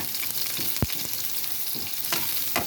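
Sardines with ginger sizzle steadily in a frying pan, with a few sharp scrapes and knocks from stirring, close and loud, no talking.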